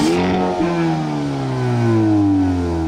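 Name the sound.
Dacia Sandero exhaust in normal mode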